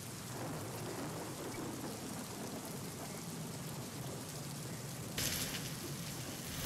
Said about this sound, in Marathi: विजांसह जोरदार पाऊस झाला आहे.